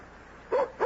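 A dog yips twice in quick succession in a radio mystery drama, short high whimpering barks close to the microphone against a quiet background.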